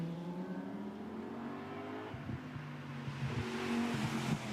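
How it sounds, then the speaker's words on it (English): A Lamborghini GT2 race car climbs toward the Les Combes section at Spa during free practice. Its engine note rises steadily from a moderate distance and grows louder and rougher toward the end, with no voices. "Now there is the Lamborghini heading up towards the Lecombe sequence."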